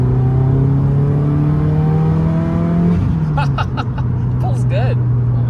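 A tuned Subaru WRX engine rises steadily in pitch as it accelerates, then eases off, heard from inside the car; people talk briefly over the engine noise near the end.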